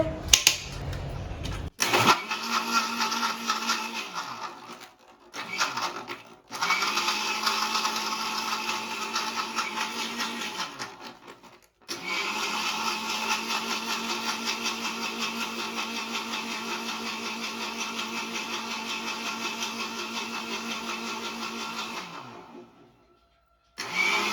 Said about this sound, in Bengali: no start the Blender